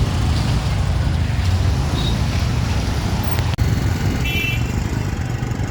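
Nighttime street traffic in Kalyan rumbles continuously, with engines and tyre noise from cars and buses, a faint high brake squeal or two, and a brief dropout partway through.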